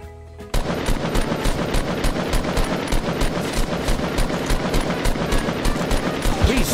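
Rapid automatic gunfire in the video game Fortnite, a dense loud stream of shots in steady rhythm after a short quiet start, continuing to the end.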